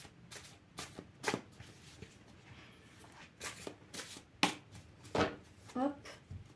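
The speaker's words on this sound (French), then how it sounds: "on va poser des cartes dessus avec celle-là" Tarot cards are shuffled and dealt onto a table in a quiet room, with soft riffling bursts and light papery slaps in irregular clusters, close and fairly faint.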